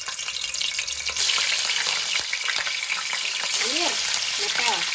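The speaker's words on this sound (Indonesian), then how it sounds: "Tah ieu nya urang gorengkeun heula tahuna nya." Tofu fries in hot oil in a pan with a loud, steady sizzle and crackle throughout, with brief faint voice-like tones near the end.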